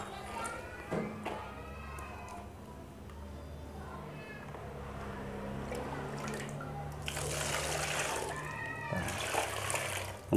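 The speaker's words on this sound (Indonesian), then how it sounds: "kita tambahkan air" Water being poured into a homemade plant-based pesticide mixture, a splashing trickle that grows louder in the second half, with a voice speaking over it and cat-like squeaks.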